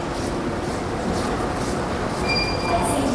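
A subway train in Korea rolls along with a steady rumbling roar, faint high squeals of wheels creeping in near the end.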